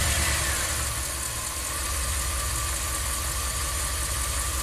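A Ram camper van engine idles low and rough after a hot soak, close and steady with a faint uneven knock, its idle sagging as if near stalling.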